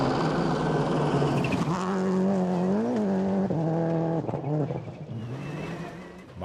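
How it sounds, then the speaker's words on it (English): A powerful Subaru rally car with a 2-litre 4-cylinder engine roars loudly and close, its pitch climbing and dropping through gear changes, with brief tyre squeal before the engine note fades slightly toward the end. "the Subaru is a hugely powerful car, despite having only a 2-litre 4-cylinder engine"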